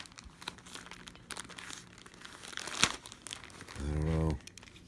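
A merch package being cut open with a blade, with close crinkling and tearing of plastic packaging and a short louder rasp near the end, all under a voice speaking softly.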